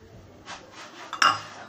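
A spoon scooping mayonnaise from a jar for a homemade hair mask, giving a few soft scraping strokes followed by a sharper metallic clink against the container, close and quiet.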